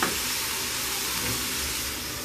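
Bacon, sausage and pork simmering in a covered pan over low heat give a steady, close sizzle and soft frying hiss, even and unbroken throughout.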